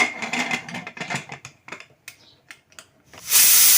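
A run of clicks and rattles, then a sudden loud, sustained hiss of steam bursts out at the end from a pressure cooker whistle on a gas stove.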